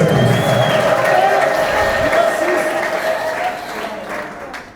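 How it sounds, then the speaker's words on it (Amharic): A church congregation erupts in mixed ululation and applause in praise, a dense, loud crowd roar with high trilling tones running steadily throughout, fading slightly toward the end. "ለእግዚአብሔር እልልታና ጭብጨባ ድብልቅልቅ ያለ ክብር ሰጡ"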